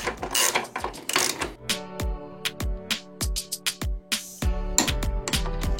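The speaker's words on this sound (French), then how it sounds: "On va serrer au même couple pour ces 2 boulons que ce que préconise le constructeur pour ce boulon" A torque wrench ratchets while tightening bolts to 42 Nm during an engine swap, sharp rapid clicks in short irregular bursts, close and distinct, with brief pauses between strokes.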